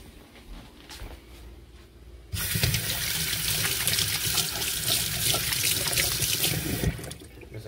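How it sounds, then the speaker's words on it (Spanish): A kitchen tap runs while fingers are washed under it during curry chicken ramen cooking, a sudden loud steady gush of splashing water that starts abruptly and stops after about five seconds, with quieter handling noise before and after. "Primero me lavaré estos dedos."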